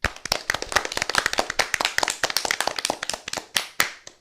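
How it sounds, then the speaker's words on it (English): Applause from a small audience after a children's radio quiz round, a dense run of sharp, close hand claps with an uneven rhythm that carries on steadily and then thins out near the end. "Let's give everybody a big round of applause."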